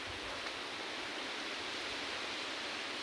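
Steady broadband rush of flowing stream water, continuous and fairly close, with no voices over it.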